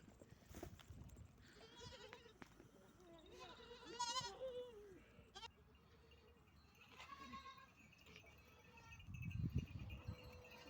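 Goats and their kids, just untied to go to their mothers for milk, bleat repeatedly at moderate distance, with wavering cries rising over a busy farmyard background, mixed with voices and clattering noises.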